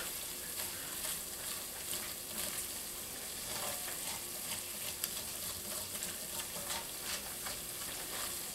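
Flour browning in a pan for chicken and dumplings, a steady close sizzle and crackle with faint scraping of a stirring utensil, no talk.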